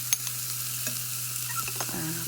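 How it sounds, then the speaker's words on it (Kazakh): Onions and minced meat fry in hot oil, a steady close sizzle with occasional stirring scrapes and small pops, without any talking. "осылай үстіне етімізді салып қуырамыз"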